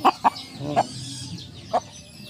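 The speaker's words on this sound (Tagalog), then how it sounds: "Ito yung manok na mabait." Several short, sharp clucks from a Saigon breed chicken, close by, spaced irregularly with soft background noise in between.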